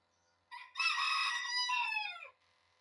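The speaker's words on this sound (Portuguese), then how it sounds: "O galo está cantando uma hora dessa." A rooster crows once, a single loud, close, drawn-out cock-a-doodle-doo lasting nearly two seconds that rises and then falls away at the end, alone against a quiet background.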